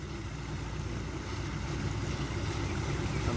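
A tractor-driven wheat thresher runs steadily, giving a loud, continuous low mechanical drone and rumble that holds even throughout and builds slightly toward the end, with no voices over it.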